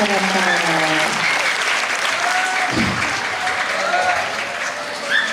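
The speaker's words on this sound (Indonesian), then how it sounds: "berikan tepuk tangan dulu untuk Anoli dan Arsya" A school audience claps for two students at a literacy event, sustained broadband applause filling the room with a few faint voices and cheers threaded through it.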